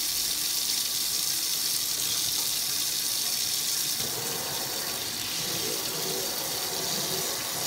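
A kitchen faucet runs water into a sink, a steady continuous hiss and splash that holds evenly, loud and close, with no talk over it.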